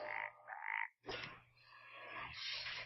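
Hearthstone's card game frog gives a loud, close croaking burst, then a brief gap before a second, longer croaking sound.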